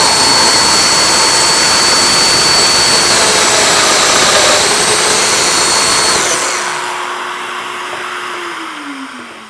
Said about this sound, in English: now I've repositioned this fence and I can cut the domino in the end of these other rails